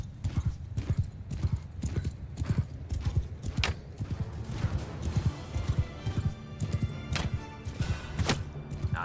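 Hoofbeats of a cavalry charge of horse archers in the Mount and Blade Bannerlord video game, a dense, continuous clip-clop of many galloping horses with an occasional whinny, loud and close throughout.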